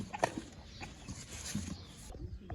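An aseel rooster clucks and scuffles in short, faint bursts against a busy background of rustling and knocks, fairly close but quiet.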